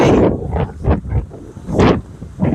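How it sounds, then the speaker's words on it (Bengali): Gusty wind buffets the microphone in uneven, roaring bursts at a river port in Chilmari, Kurigram, during a storm, with no clear rain patter audible. "প্রচন্ড বাতাস বৃষ্টি"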